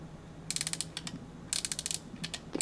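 Crisp mechanical clicks and ratcheting snaps in quick bursts as the knobs and buttons of a Fujifilm Instax Mini EVO instant camera are turned and pressed close up, over a faint low hum.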